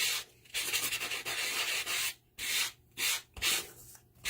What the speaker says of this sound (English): my trusty, dusty, forever old sander